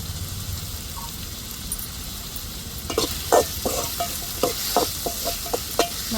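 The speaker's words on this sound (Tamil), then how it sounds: "நல்லா தக்காளி வெங்காயமும் இன்னும் கொஞ்சம் நல்லா வதங்கட்டும்." Tomatoes and onions sauté in a pan under a steady crackling sizzle, joined after a few seconds by a spoon stirring in uneven scraping taps against the pan, close and clear with no talk.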